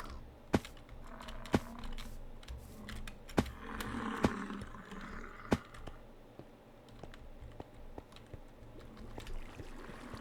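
Computer keyboard typing heard close up alone as sharp irregular clicks and key taps over a low steady background hum, with occasional louder strikes, during a Minecraft gaming session.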